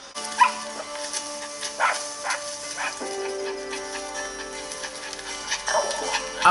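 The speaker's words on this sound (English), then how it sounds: "Little baby dog!" A small dog in a TV episode of The Walking Dead gives short yips and whimpering barks, heard scattered across a steady soundtrack bed at moderate loudness.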